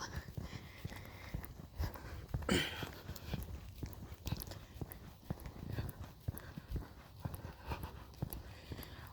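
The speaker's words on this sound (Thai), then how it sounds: "เดินไปค่ะสองกิโล" Footsteps of a person walking two kilometres to work sound as a faint, steady run of soft repeated steps on an outdoor path, quiet and close, with light background noise.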